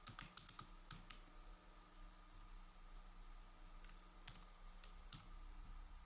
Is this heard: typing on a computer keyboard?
yes